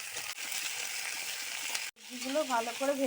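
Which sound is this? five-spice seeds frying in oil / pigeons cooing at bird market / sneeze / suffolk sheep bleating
five-spice seeds frying in oil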